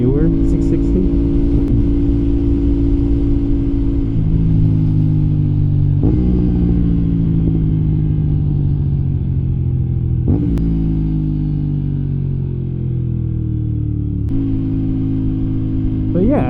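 An Aprilia RS 660 motorcycle being ridden, its engine droning loudly and continuously up close, with revs climbing and dropping through several gear changes.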